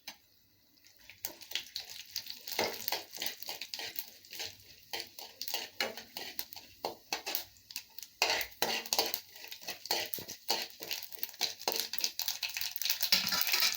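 Mustard seeds, chana dal and urad dal splutter in hot oil, a dense run of sharp crackling pops and ticks, close and busy, with no talk.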